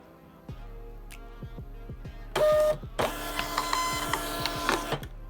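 An Arkscan 2054A thermal printer prints a label, its feed mechanism ticking in a steady rapid rhythm, then a louder whirring burst as the label pushes out, close and alone without talk.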